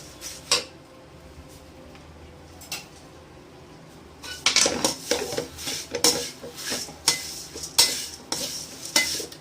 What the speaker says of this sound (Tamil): நல்லா கொஞ்சம் அடுப்பை கொஞ்சம் குறைச்சி வச்சுக்கிட்டு கொஞ்சம் வறுக்கணும்